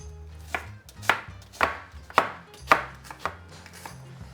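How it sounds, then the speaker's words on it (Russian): A knife slicing a large onion into thin quarter rings on a board, with about seven distinct crisp cuts at a steady unhurried rhythm, close and clear with no talking. "Тем временем я беру одну крупную луковицу и порежу ее тонкими четверть-кольцами."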